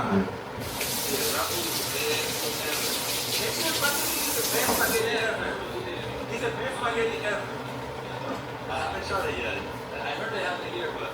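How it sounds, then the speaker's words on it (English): Salty cooking water pours out of cooked shrimp through a holed strainer, a steady rushing splash that drops off after about five seconds into a softer trickle and the clatter of a kitchen sink. "I'm gonna kind of strain the water off of it because the juice is real salty"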